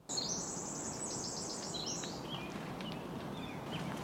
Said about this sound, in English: All different kinds of birds?